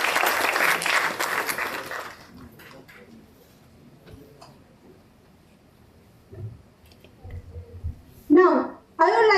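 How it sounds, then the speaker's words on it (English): A conference audience at a BIM conclave gives a round of applause, dense clapping for about two seconds that fades into scattered claps and room noise, followed by brief voices near the end. "let's give a round of applause to our outstanding speakers"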